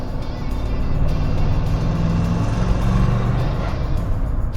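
A 1965 Pontiac Catalina engine drones steadily at low pitch while the car is driven, with road and cabin rumble mixed in and a faint voice underneath.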